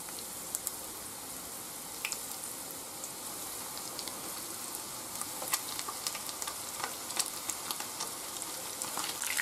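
Breaded pieces for a Caesar salad fry in very hot oil, giving a dense, even sizzle with scattered sharp crackles and pops, close and steady throughout with no voices.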